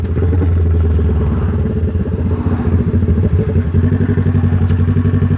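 A motorcycle engine thrums loud and close with a pulsing, chugging rhythm as the rider takes a tight turn, the beat steady throughout with no talk.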